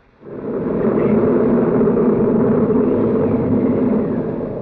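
Thunderstorm in the 1931 Frankenstein film, a deep rolling rumble that swells in quickly and holds at steady loudness before easing slightly toward the end.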